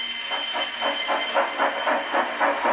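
A Thomas the Tank Engine style train runs steadily along the track, its rhythmic chugging clatter repeating about every quarter second over a constant hiss, close and fairly loud with no voices.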